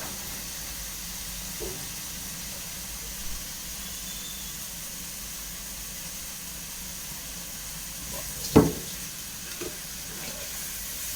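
Ginger frying in a pan for a chicken curry gives a faint, steady sizzling hiss throughout, with one louder sharp crackle near the end and a few softer ticks.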